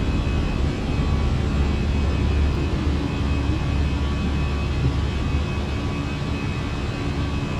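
Steady, loud aircraft engine roar from a simulated airliner during takeoff climb in Microsoft Flight Simulator on a charter near the Swiss Alps, a dense broadband rumble with faint whining tones, unbroken and without voices throughout.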